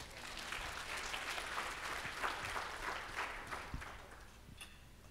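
A church congregation claps for Jesus, a soft, distant patter of applause that fades toward the end.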